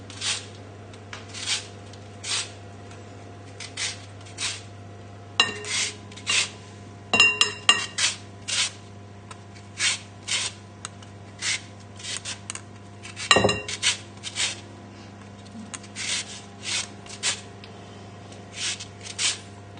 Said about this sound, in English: So it's going to be the rind and juice of a lemon. So just using the finest side of a grater